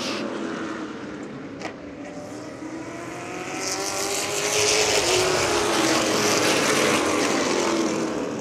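Stock cars race side by side on the oval at Orange Show Speedway, engines roaring steadily at a distance and then swelling louder as the pack sweeps past, with no voices over them.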